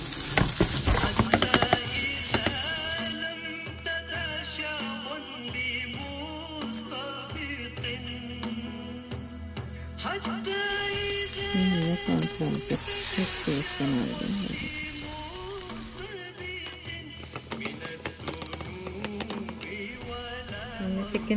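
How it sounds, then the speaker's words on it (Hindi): Chicken pieces frying in a pan for cheesy rolls, a continuous close sizzle and hiss with repeated stirring scrapes throughout, fairly loud with little pause. "चिकन को थोड़ा सा हम इसमें भूनेंगे"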